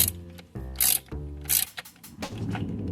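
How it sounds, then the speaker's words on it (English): A ratchet clicks in several quick bursts while bolts on a Chrysler 300 rocker assembly are torqued down, close-up metallic pawl ratcheting with short pauses between strokes. "torquing it down now, for real this time"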